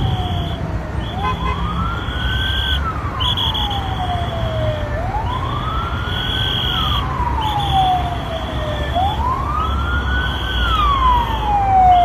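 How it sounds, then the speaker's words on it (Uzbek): Two ambulances pass through traffic with wailing sirens that rise and fall in slow, repeated sweeps, loud and steady over a constant road rumble. "Mana ko'rib turganingizdek, ikkita tez yordam ekan."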